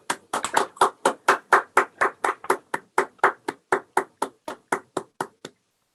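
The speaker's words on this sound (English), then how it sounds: "Can we please give a round of applause?" Audience applause at the 2021 Kate Stoneman Day award event, heard as a steady run of roughly twenty distinct, evenly spaced claps, fairly close and crisp, that stops abruptly after about five and a half seconds with no talking.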